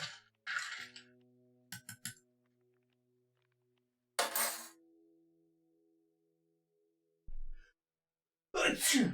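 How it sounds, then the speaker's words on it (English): A single short sneeze bursts out amid quiet kitchen sounds, with a few clinks and a brief breathy sound nearby. "Sorry for a sneeze"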